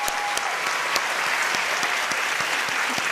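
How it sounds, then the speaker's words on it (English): Sustained, dense audience applause for Teacher of the Year winners at an awards ceremony, a steady wash of many hands clapping with no break for the whole stretch. "Let's just give our winners one more round of applause."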